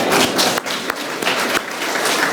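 A press conference audience applauds with a dense, steady wash of hand claps that continues without a break for a couple of seconds.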